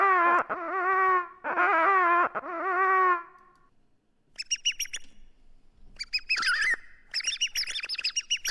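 Cartoonish bird calls from an animal box toy in a video game: three loud, rising whistled warbles first, then a pause and a flurry of shorter, higher chirps and tweets, clean with no talking.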